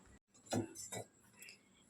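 A lid clinks onto a glass jar of water, then the jar is turned over; a few short glassy knocks and clinks sound close by, with faint speech-like murmur under them.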